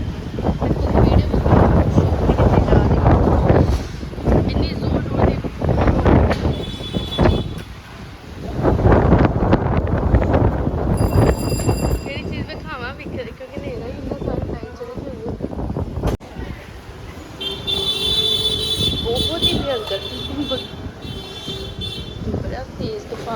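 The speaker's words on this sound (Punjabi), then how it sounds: "ਇੰਨੀ ਜ਼ੋਰ ਦੀ ਹਵਾ ਚੱਲ ਰਹੀ ਹੈ ਇੰਨਾ ਧੂਲ ਮਿੱਟੀ ਉੱਡਦਾ ਪਿਆ" Strong storm wind buffets the microphone in loud, gusting roars that rise and fall, easing in a quieter middle stretch, as dust and soil blow about outdoors.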